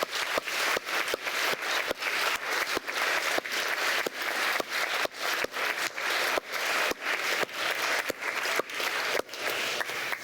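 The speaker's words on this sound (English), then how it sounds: "Can we please have one last round of applause for all our paper speakers this evening?" Sustained audience applause fills an evening debate hall after a motion speech, dense and steady throughout with sharp individual claps standing out, no voices over it.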